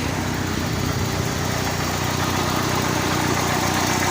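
A 1989 Plymouth Voyager's Chrysler 2.5-liter turbo four-cylinder engine idles steadily and evenly at close range, a constant low mechanical rumble with no voices.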